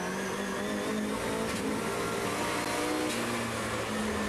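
Rallycross race cars, a Saab and an Opel, launch and race at a 1999 European championship round in Holland, engines roaring steadily and loud throughout with a dense, continuous wash of several cars together.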